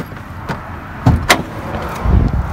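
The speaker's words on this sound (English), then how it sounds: "Let's pop the hood really quick here." The hood of a Honda Civic EM1 is released and popped open with a few sharp, close metallic clunks and thumps, and no voices.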